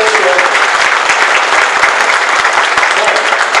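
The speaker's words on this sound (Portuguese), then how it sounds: "uma salva de palmas." Steady applause from an audience at a community meeting with a senator in Brazil, dense and continuous clapping filling the room for a few seconds, loud and close with no talking over it.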